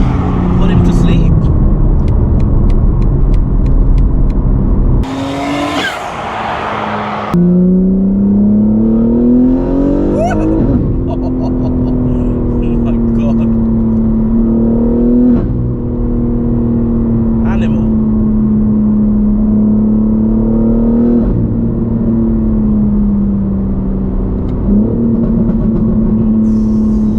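A 1000 hp BMW G81 M3 tuned on a street map accelerates hard on the street, its engine note rising through the gears in loud, sustained pulls with brief breaks at shifts, heard from inside the car under occasional talk.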